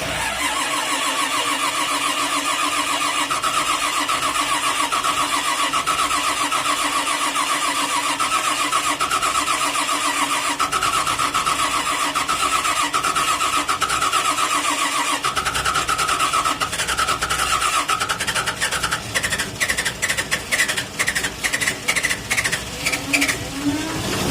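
An old tractor engine cold starting, cranking for a long stretch, a steady grinding churn that finally catches and sputters into uneven chugging, loud and close.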